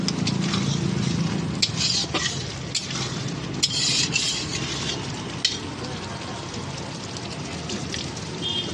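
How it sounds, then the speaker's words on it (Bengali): Tomato is stirred into a spice masala frying in a pan, with steady close sizzling, wet scraping and a few sharp clicks of the spoon against the pan throughout. "মশলাটা হয়ে এসছে, তো এতে এবার টমেটোটা দিয়ে দেবো। একটু ভালো করে নেড়ে চেড়ে নেব।"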